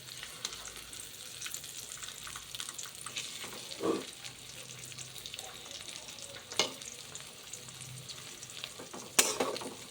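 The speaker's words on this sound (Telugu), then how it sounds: "ఎగ్స్ కొంచెం ఉడికిన తర్వాత వాటిని తిప్పేసుకోండి." Eggs fry in a pan with a steady sizzle and crackle throughout, and a few sharp scrapes and clatters of a spatula ring out as the eggs are flipped.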